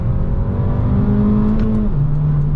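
An Abarth 695 70th Anniversario accelerates through a corner, its small engine buzzing steadily at close range with the pitch holding and then dropping slightly as it eases off, no voice over it.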